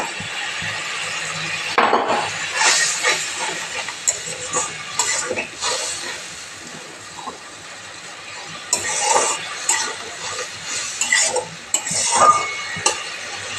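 Spices stir-fried in a pan for a rohu fish curry with pointed gourd, giving loud bursts of scraping and clinking stirring over a low sizzle, fading quieter in the middle before picking up again.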